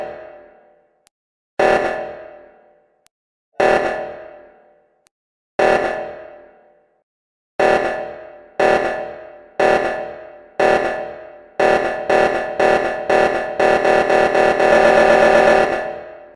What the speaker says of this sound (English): I use this alarm sound effect to create like that EDM vibe